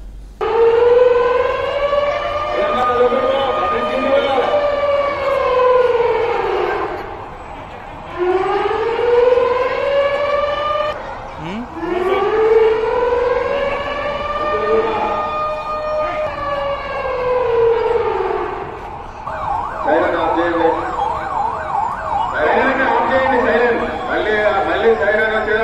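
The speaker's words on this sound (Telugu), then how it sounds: "సైరన్ సౌండ్ రాగానే ప్రజలు సురక్షితమైన ప్రాంతాలకు వెళ్లిపోవాలని" A civil defense siren wails loud and near during a police mock drill in Shamshabad, rising and falling in long repeated cycles before shifting to a rapid warble near the end, while people talk and chatter beneath it.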